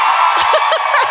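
A live podcast audience at a comedy festival cheers and whoops in a loud, dense crowd roar, with scattered laughter in a short burst.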